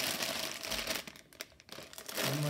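Plastic bags of Lego Technic 42098 Car Transporter pieces crinkle and rustle loudly and close up as they are handled during unboxing, easing off briefly in the middle before picking up again.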